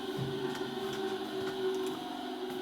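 A diamond grinder runs steadily at close range, giving a constant whirring hum with a faint ticking texture, alone and without voices.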